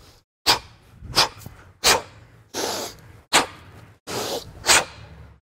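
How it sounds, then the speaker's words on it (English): Forceful rhythmic breathing during a kettlebell exercise, with sharp, hissing exhalations and quick intakes repeating about every half second to second, close and clear with no talk. "working with the rhythm of the exercise and using a forceful exhalation"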